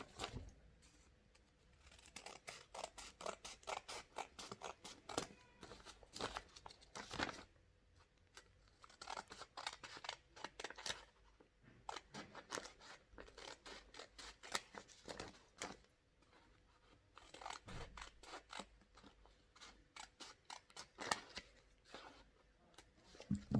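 Scissors snip steadily through a paper or fabric face mask pattern along a curved line, a close, dry run of crisp cuts and crinkles with short pauses, no talking.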